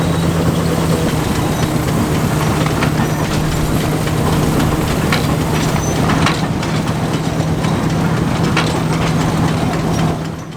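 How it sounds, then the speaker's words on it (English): Ransom's threshing drum driven by a Ruston and Hornsby single cylinder traction engine, a loud, continuous mechanical rumble with a steady low hum and rattling, clattering texture outdoors at close range. "we've got this Ransom's thrashing drum being driven by a Ruston and Hornsby single cylinder traction"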